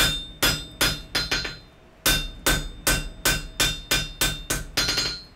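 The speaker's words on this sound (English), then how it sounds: "That's going to just help center up our hammer blows when you go to hammering on this." Hammer blows forging a wrought iron hammer head on an anvil, about sixteen sharp ringing strikes in quick rhythmic groups with a brief pause, loud and close with metallic ring, no talk.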